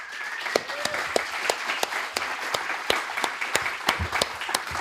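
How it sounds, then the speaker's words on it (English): A sustainable tourism conference audience applauds the Green Destinations team, a sustained round of clapping with distinct sharp nearby claps punctuating the crowd's steady wash, with some voices faintly underneath. "I want a huge round of applause for the work that they've done."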